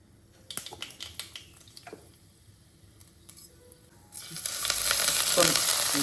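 Mustard seeds hit hot oil in a pan for a methi leaf thoran and burst into a loud, steady sizzle partway through, after a few soft clinks and taps at the start.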